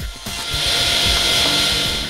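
A power saw cutting through a scrap piece of wood, a loud steady whining buzz starting abruptly and running continuously close by, with no talking.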